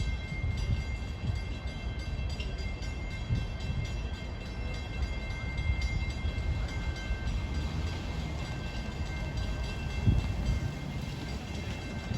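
An eastbound commuter train rolls past a suburban station platform during evening rush hour, a steady, loud rumble of wheels and cars sustained throughout with no voices.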